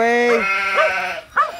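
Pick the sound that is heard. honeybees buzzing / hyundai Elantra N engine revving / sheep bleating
sheep bleating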